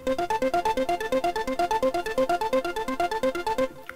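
Arturia PolyBrute synthesizer with random envelope modulation switched off, firing a rapid, even stream of identical plucked notes in a mechanical machine-gun rhythm, steady and moderately loud, with no talking.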